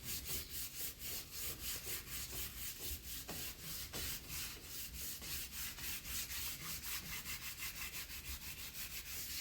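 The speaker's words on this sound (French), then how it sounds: "Alors faut bien le poncer partout qu'il soit mat." A leather car steering wheel is sanded all over to a matte finish, giving a steady, close rhythmic rubbing and scraping that repeats in quick even strokes throughout, with no talking.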